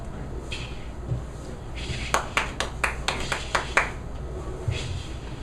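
Open-mic audience at a coffee shop breaks into a short burst of clapping, a cluster of sharp handclaps rising and fading over a few seconds amid room noise.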